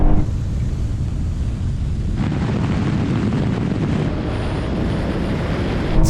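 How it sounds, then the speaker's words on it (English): A BMW M3 engine roars during a drag race, a loud, sustained rush of engine noise and wind buffeting that swells after a couple of seconds and holds steady throughout. "So good, this engine."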